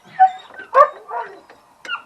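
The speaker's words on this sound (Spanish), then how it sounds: "tengo justamente los perros que se han puesto ahora mismo a ladrar" Dogs bark and yip in several sharp, fairly near bursts with short gaps between them, with some whimpering mixed in.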